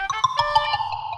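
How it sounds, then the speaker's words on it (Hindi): A short electronic phone ringtone plays a bright, bouncing melody of quick tones, fairly close and clear. "ये बावरी जी बार बार फोन कर रहे हैं"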